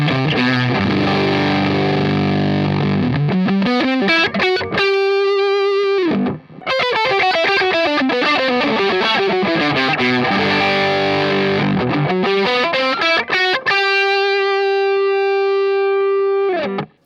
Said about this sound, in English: what you do is you crank it all the way up going into an already overdriving amplifier